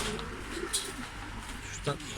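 Soft pigeon coos come through a few times, faint and close, beneath a voice talking over low outdoor noise.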